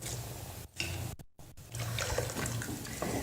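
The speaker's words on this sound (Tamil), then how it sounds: "தண்ணி நான் 2 டம்ளர் ஊற்றியிருக்கேன்" Two tumblers of water pour into a pressure cooker holding leftover rice, a close, loud running splash broken by brief silent gaps partway through.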